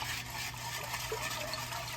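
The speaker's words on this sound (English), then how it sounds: "And I'm gonna put a little bit more water." Water splashes steadily into a cooking pot in a continuous rushing pour, close and fairly quiet, with no talking.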